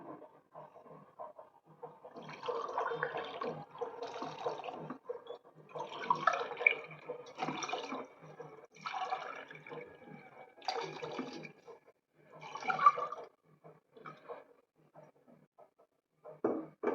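Water is poured from a cup into a pot of broken wheat in a series of separate splashing pours, each a few seconds long, with short pauses between them.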